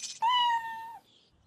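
A single clear cat meow, close and fairly loud, a rising then steady tone held for about three quarters of a second before fading into quiet.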